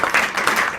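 Students in a school classroom give a short burst of hand clapping, several quick overlapping claps close by with no talk.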